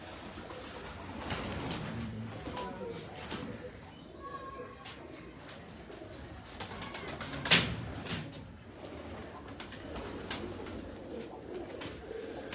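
Shahi breed pigeons coo softly and repeatedly at close range, with someone talking over them and a brief sharp knock partway through.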